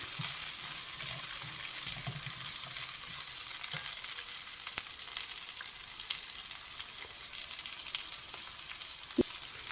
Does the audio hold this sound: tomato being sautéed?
yes